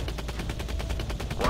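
Rapid automatic gunfire from a drone strike in the Drone: Shadow Strike mobile game rattles continuously as a dense, even burst of shots over a low rumble.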